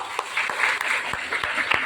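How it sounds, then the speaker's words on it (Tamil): Scattered applause at a school morning assembly, a brief patter of clapping heard from a gathered crowd of students at a moderate distance. "பிரைஸ் வாங்கினதுக்கு அப்புறமா ஓகே, பழத்தை ஒரு கைதட்டு கொடுக்கலாம்."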